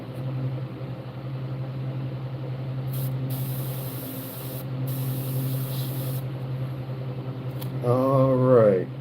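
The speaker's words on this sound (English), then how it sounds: "I'm going to spray the whole face with this to kill some of that" An airbrush sprays paint over the face of a largemouth bass carving, a steady close hiss that cuts in and out in short bursts over a low hum, with a brief wavering noise at the end.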